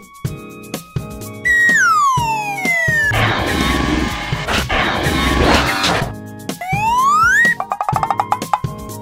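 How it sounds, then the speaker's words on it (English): Fire truck siren in a children's vehicle cartoon, a loud wailing siren rising and falling, mixed with crashes and cartoon sound effects. "Fire truck."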